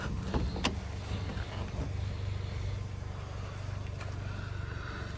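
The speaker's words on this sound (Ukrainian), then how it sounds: "Бачите, склалися дзеркала, тепер розкладаємо." Power folding side mirrors on a used car whir briefly with small motor clicks, close up, over a steady low hum of the vehicle on a lift.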